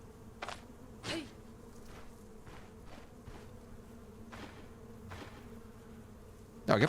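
Bees buzz in the fantasy role-playing video game Stoneshard: faint, quiet insect drones come in short repeated bursts over a low hum, with a louder thud at the very end.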